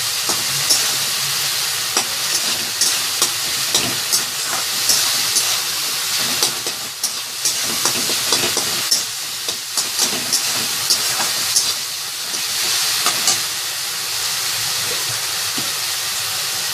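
Green chilli sizzles and fries steadily in a pan while cooking tomato fish, a continuous close hiss with occasional stirring clatter, no voices.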